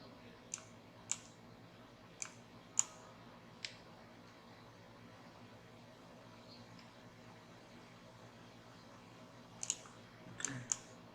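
Computer mouse clicks while editing shapefiles in ArcGIS, sharp isolated clicks heard singly and in small bunches, a few near the start and a cluster at the end, over quiet room hum.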